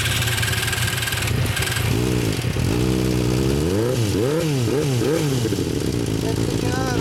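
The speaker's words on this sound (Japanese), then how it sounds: "エンジン音聞かせてもらえる？" A 2016 Kawasaki Z1000SX fitted with a Vance & Hines aftermarket exhaust idles and then revs in several rising and falling bursts, close and loud, with some voices in the background.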